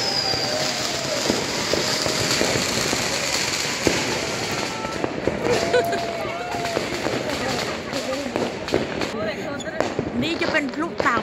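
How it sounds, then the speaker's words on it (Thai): New Year's Eve fireworks bursting over Paralimni, Cyprus, a continuous crackle of distant and nearby pops and bangs with someone speaking throughout. "ได้ยินเสียงพลุค่ะโอ้มีคนมาจุดพลุตรงนู้นนะคะ"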